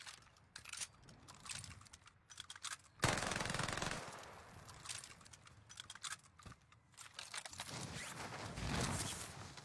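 Rapid automatic gunfire from a competitive online shooter game, dense bursts of shots with a loud sustained volley partway through, layered with keyboard clatter throughout.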